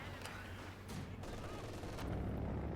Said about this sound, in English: So far we have really a mortar fest going on.